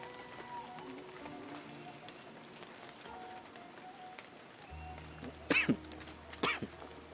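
Two short bursts of coughing near the end, over a faint, steady outdoor background hum.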